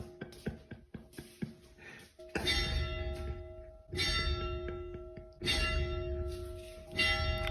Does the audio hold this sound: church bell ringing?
yes